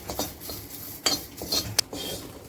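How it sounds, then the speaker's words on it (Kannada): Curry leaves and lentils dry roasting in a pan for bele dal, with a spoon stirring and scraping against the metal in a few quick clinks and rattles, close and fairly quiet. "ಕರ್ಬೇವಿನ ಸೊಪ್ಪು ಹಾಗೇ ಫುಲ್ ಡ್ರೈ ರೋಸ್ಟ್ ಗರಿ ಆಗೋವರೆಗೂ ಹುರ್ಕೊಳ್ಳೋದು"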